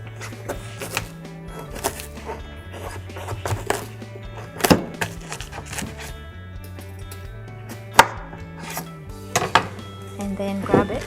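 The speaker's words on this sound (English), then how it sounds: "Let's start by cutting the cabbage." A knife cuts through napa cabbage for vegan kimchi on a board, giving scattered sharp thunks and taps over background music.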